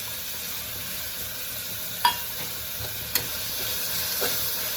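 Tomato paste sautés in a pan for a potato kurma, a soft even sizzle throughout with a few faint clicks of a spoon against the pan, no voices.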